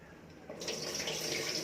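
Rinse water from washed rice pours out of a pot into a sink, a steady splashing stream starting abruptly and running continuously at close range.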